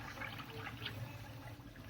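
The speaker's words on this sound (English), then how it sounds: "you can actually hear the water going down in the drain pipe" Water gurgles and rushes down a drain pipe after a clogged sink is cleared. A short, steady, hollow flow with bubbling, fairly faint and alone.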